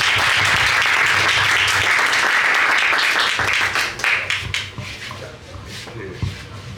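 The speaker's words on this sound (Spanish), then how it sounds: "Un aplauso" Audience applause from neighbors gathered at an evening homage event in Rímac, a dense steady clapping that thins and fades toward the end, with a low murmur of voices underneath.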